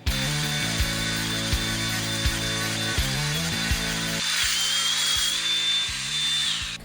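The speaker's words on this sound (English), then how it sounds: "someone with an angle grinder grinding open my lock in the middle of the night" Angle grinder cutting through a bike lock, a steady loud motor drone with regular pulsing bursts, and a thin high whine that rises and holds as the disc bites into the metal.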